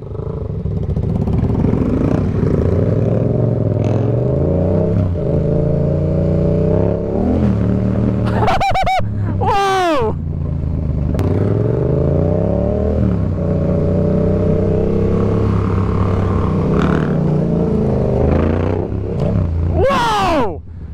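A 2018 Yamaha MT-09 motorcycle roars loudly and steadily while being jumped, its engine rising and falling with revs, broken by a couple of sharp bursts near the middle and end.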